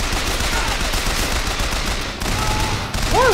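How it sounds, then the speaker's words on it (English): A machine gun fires in the video game Bioshock Infinite, dense rapid bursts sounding continuously and loud for a few seconds, ending with a brief electronic warbling chirp; no speech. "I like machine gun better."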